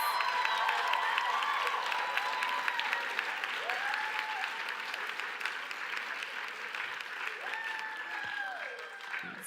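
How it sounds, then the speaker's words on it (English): A large commencement crowd claps in sustained, dense applause with a few scattered cheers, continuing steadily for the whole stretch. "I need for you all to make some noise. Thunderous claps."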